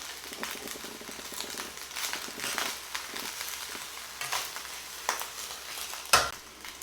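Rice fries with soy sauce and black pepper while being stirred, a quiet continuous sizzle broken by soft scraping strokes and one sharper clack near the end.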